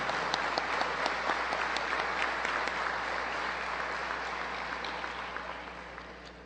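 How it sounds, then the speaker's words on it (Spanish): An academic audience claps for visiting professors and student organizers in steady, full applause that slowly fades in loudness across the few seconds, with no voices over it. "tributarles un aplauso a los profesores que nos visitan y a los estudiantes organizadores"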